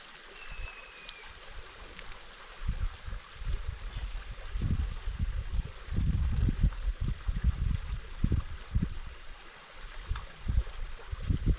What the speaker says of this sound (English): So this is where normally we pump water from here. You see guys how water is flowing?